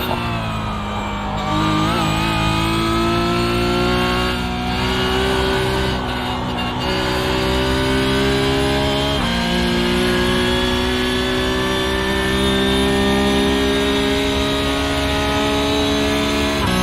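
A Porsche Cup race car engine screams through gear changes on the Nürburgring in the iRacing sim, a loud, continuous high-revving note that climbs, drops briefly at each shift and pulls hard again, alone throughout.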